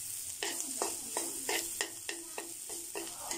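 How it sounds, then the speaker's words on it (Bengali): Bitter gourd (karela) fries in a pan on a home kitchen stove, a soft steady sizzle broken by a regular series of sharp scraping stirs about every half second. "তাই ভাবি করলাটা ভাজি করছে।"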